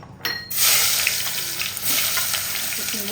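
Food dropped into hot oil bursts into a loud, continuous sizzle after a brief quieter moment, then crackles steadily and close up with small pops, with no talking.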